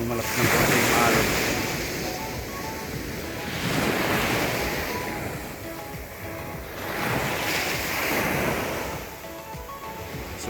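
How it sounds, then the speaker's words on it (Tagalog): Strong sea waves break and surge at Pundakit Beach in San Antonio, Zambales, a loud continuous roar of surf that swells and eases in slow cycles, with wind buffeting the microphone and no talk heard. "Medyo malakas ng konti yung alon."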